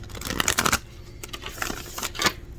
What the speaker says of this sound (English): I can't shuffle these cards like that.